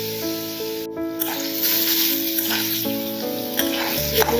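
Carrots and capsicum sizzle in oil in a home kitchen pan, a continuous hiss broken by clinks and stirring scrapes, while steady tonal background music plays underneath.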